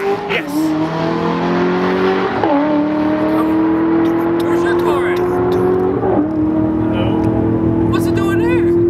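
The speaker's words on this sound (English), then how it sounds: "Stock ZR1 with Drag Radials." Stock ZR1 on drag radials launching down a drag strip: a loud engine roars and climbs in pitch through several gear shifts, each marked by a brief dip before the revs rise again, with voices in the background.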